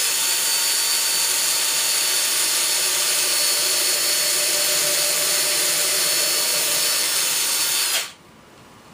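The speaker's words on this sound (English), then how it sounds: "we're going to drill a hole in it" A power drill whines loud and steady up close for about eight seconds, drilling a hole in a cheap homemade H-quadcopter frame, then cuts off abruptly into quiet.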